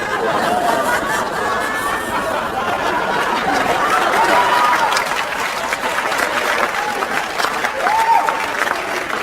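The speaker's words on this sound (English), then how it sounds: "An applause break over my infidelity." Audience applause at a Mitch Hedberg stand-up comedy show, steady clapping from a room full of people with chatter and scattered chuckles running through it.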